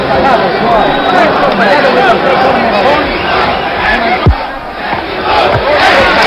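A boxing crowd of Mexican and Argentinian fans in Paris shouts and roars continuously at close range, a dense wall of voices with one sharp thump partway through.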